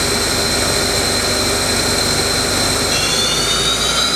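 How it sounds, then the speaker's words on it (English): An Ikegai TC15 CNC lathe runs its spindle at around 2000 RPM with the axes moving, a steady loud whine with a high tonal hum that shifts slightly near the end. "Show the spindle running, axes moving. Running at 2000 RPMs, up to 3000."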